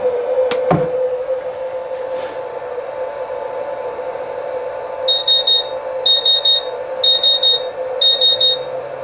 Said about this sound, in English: The beeping was the flow indicator.